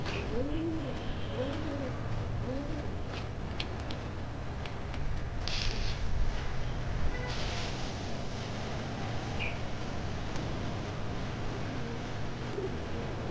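Soft, low cooing from native pigeons on a rooftop loft repeats now and then against a quiet background, with faint rustling and a brief flutter.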